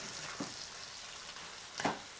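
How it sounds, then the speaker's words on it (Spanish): A salted, black-peppered beef steak fries in a pan with a continuous hiss and crackle, broken by a couple of brief stirring scrapes. "ya lo vamos a dejar aquí que se vaya friendo"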